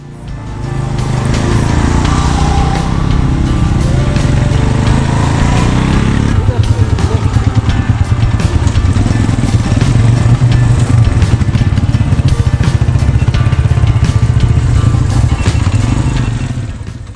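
Motorcycle riding over a rough road thick with glacial and river silt on the way to Khaplu, its engine droning loud and steady throughout, rumbling harder partway through as it works over the uneven ground.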